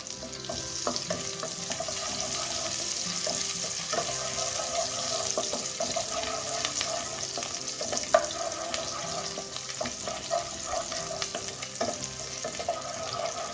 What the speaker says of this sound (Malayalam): ഇനി ഇതിലേക്ക് നമ്മൾ അരിഞ്ഞു വെച്ചിരിക്കുന്ന വെളുത്തുള്ളി ചേർക്കാം. ആദ്യം ജസ്റ്റ് ഒന്ന് വഴറ്റിയെടുക്കാം.